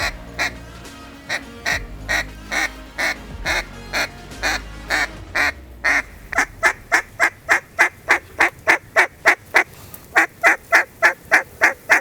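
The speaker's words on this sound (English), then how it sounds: "There's ducks everywhere, ducks trading around the treetops, big bunches of mallards" A flock of mallard ducks quacks after an icy spell, a loud rhythmic run of repeated calls from close by that speeds up toward the end, with other ducks faint in the background.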